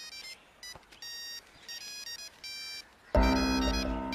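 A mobile phone rings in a Hindi-dubbed film scene with a repeating electronic ringtone of short, bright tone bursts. A much louder, fuller burst of sound cuts in near the end.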